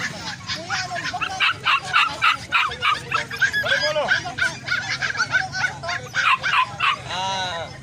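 Rapid, overlapping barks and yips from several dogs at a market, mixed with honking bird calls and people talking nearby.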